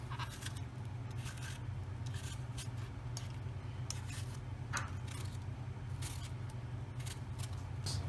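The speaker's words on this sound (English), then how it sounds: "next you just want to peel the skin" Apples being peeled with a blade, a run of soft, scraping strokes repeating irregularly over a constant low hum, with no voices.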